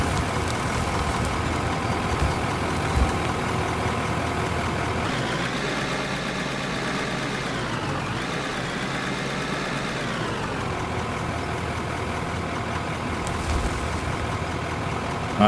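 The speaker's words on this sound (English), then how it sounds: "And reverse the engines." Aircraft engines roar in reverse thrust after landing in the video game Out Of Ore, a steady loud whine and rumble that rises and falls in pitch midway, then settles.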